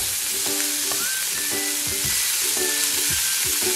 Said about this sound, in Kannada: ಇದೊಂದು ನಿಮಿಷ ಎಣ್ಣೆ ಒಳಗಡೆ ಬಾಡಿಸ್ಕೋಬೇಕು